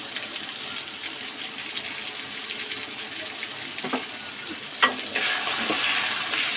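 Garlic, mustard and ginger paste frying in a pan for a rohu fish bhuna, a steady soft sizzle with a few sharp clinks, growing louder and brighter toward the end.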